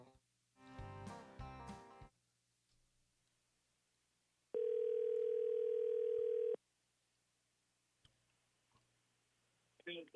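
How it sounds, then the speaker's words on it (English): On a radio station phone line, a loud steady dial tone sounds for about two seconds, after a short burst of other tones and before a few clicks, with quiet background elsewhere. "Going to make a phone call here."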